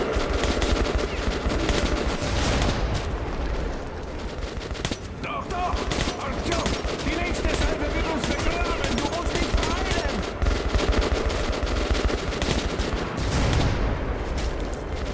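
Heavy, sustained gunfire and booming impacts in Metro Last Light Redux as a tank fires at the player: dense, loud machine-gun bursts and blasts continue almost without a break, with a voice talking over them in places.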